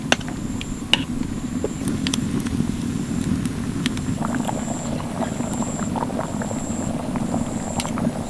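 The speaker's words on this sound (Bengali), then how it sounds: "এবার আমি ঘুগনিটা ভালো করে ফুটিয়ে নেব" Chicken ghugni with green chillies and chopped coriander bubbles in a pan with a steady, close, crackling simmer. Faint clicks rise above the bubbling, with no voices.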